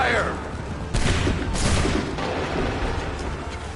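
A volley of musket fire in Assassin's Creed 3, with a loud burst of shots about a second in, then more cracks and rumbling booms over steady battlefield noise.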